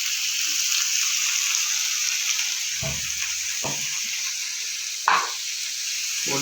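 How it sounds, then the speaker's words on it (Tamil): Prawns frying and being stirred in a pan: a bright, steady sizzle runs throughout, and several dull scraping thumps of the spatula break through it, close and loud without talk. "பேனில் எறாவை சுற்றி போடுங்க"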